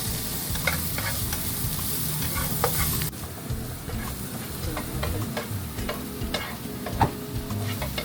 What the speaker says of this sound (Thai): ก็ให้ผัดจนกว่าคิดว่ามันจะหอมนะครับ แต่ก็อย่าให้มันไหม้นะทุกคน